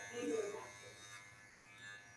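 Andis Master hair clippers give off a faint, close electric buzz during a men's curly hair haircut, with a brief louder swell at the start that fades into a low drone.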